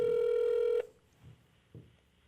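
A telephone tone rings on a call to a friend, one steady loud beep lasting under a second, then stops, leaving faint room noise with a few soft thumps.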